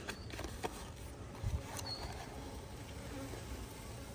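Honeybees in flight around a hive being split, giving a faint, steady buzz with scattered louder passes of single bees close by.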